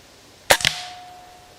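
A 20-joule air rifle fires a pellet at a target 20 meters away, giving one sharp, close crack with a short second snap right after, then a faint ringing tail.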